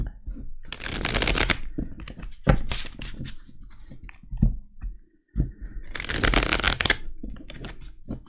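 Oracle cards being shuffled in several loud riffling bursts, each a second or so long, separated by softer handling and brief pauses, with no talk during the clip.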